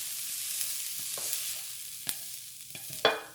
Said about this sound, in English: we're going to mix the onions in with the sauteed beef